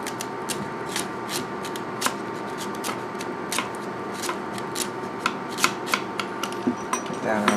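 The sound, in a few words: peeling parsnip skin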